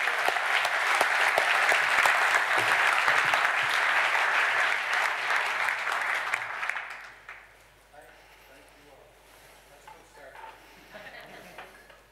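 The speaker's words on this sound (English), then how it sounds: "giving Frankie a huge round of applause to get the night started" Audience applause at a leadership masterclass speaker event in Dublin, steady and dense for about seven seconds before tapering off, with scattered claps and murmuring afterward.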